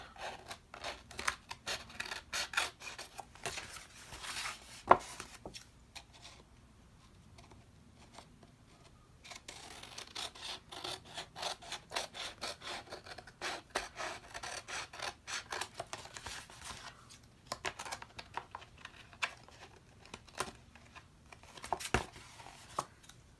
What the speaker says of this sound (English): now I'm going to use my scissors, because we do need our scissors to trim the edges and trim the excess off of the edges